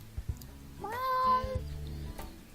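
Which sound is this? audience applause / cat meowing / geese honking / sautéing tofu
cat meowing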